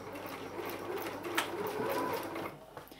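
A sewing machine stitches through the paper pages of a handmade mini album, giving a soft, fairly faint mechanical whir of quick needle strokes for a few seconds.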